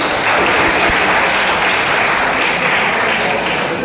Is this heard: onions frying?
no